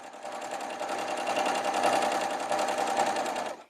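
Sewing machine hemming finicky chiffon fabric, running in one continuous fast, even stitching whir for several seconds, close and steady, then stopping abruptly.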